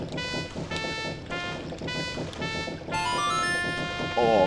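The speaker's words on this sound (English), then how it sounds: "It's the song of healing." Song of Healing melody from the Zelda game Majora's Mask, played on an organ-like synth as a steady tuneful line with sustained notes, brightening and swelling louder near the end.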